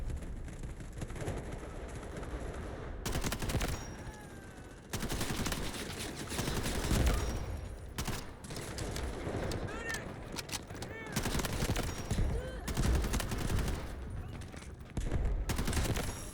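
Gunfire from a Delta Force match crackles in bursts of shots and automatic fire over busy game noise, loud and fairly close, with short pauses between volleys.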